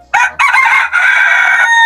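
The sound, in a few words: Sultan breed rooster crowing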